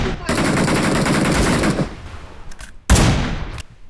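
Rapid automatic gunfire in a video game bursts loud and close for nearly two seconds, then stops, followed by a couple of faint pops and one more sharp short burst that trails off.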